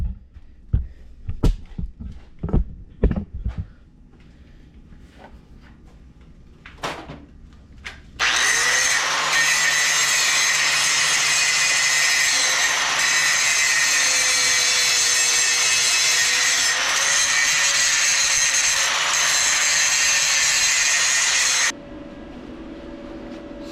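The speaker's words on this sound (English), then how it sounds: "I gotta grind all this old stuff off" An angle grinder grinding old metal off a 1995 Jeep YJ: a few sharp knocks and taps, then a loud, sustained high-pitched grinding whine that holds steady for about fourteen seconds before cutting off abruptly.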